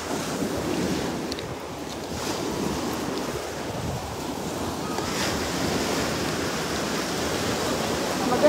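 Small ocean waves wash and break on a beach in a continuous, moderate roar, with wind buffeting the microphone and a faint higher swish now and then.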